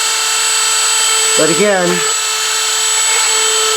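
A Dremel rotary tool grinding gives a steady, high, thin whine through the whole stretch, with a brief spoken phrase over it midway.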